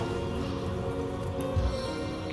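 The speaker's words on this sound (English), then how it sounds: "Can cast rain." A rain spell cast in Divinity: Original Sin brings a steady wash of falling rain. It hisses evenly on its own for a couple of seconds, with a brief low thump near the end.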